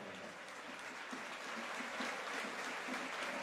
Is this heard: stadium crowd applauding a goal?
yes